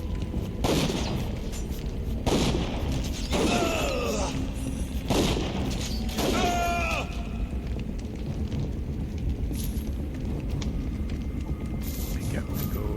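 Gunfire from the video game Dungeon Siege 3 comes as four heavy booming blasts spaced a second or two apart, each followed by a ringing, whistling tail, loud and close over a steady background rumble, with no voices.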